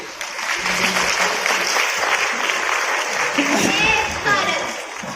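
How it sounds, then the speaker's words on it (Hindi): An audience at a patriotic stage performance about freedom fighters gives a strong, sustained round of applause, with a voice and some stray tones rising over the clapping toward the end. "अपनी आजादी, अपनी संप्रभुता के लिए एक बार जोरदार तालियां बजा दीजिए।"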